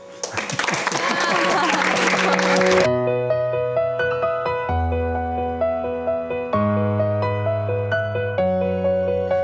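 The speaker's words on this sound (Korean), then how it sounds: "여기도 박수 쳐주자." An audience at a leadership school presentation applauds in a dense, loud burst for about three seconds, then the clapping cuts off and gentle melodic music with clear sustained notes takes over.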